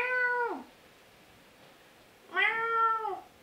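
A pet cat meows twice, each a clear, close, drawn-out cry with a falling end, separated by a short quiet pause, with no other sounds around it.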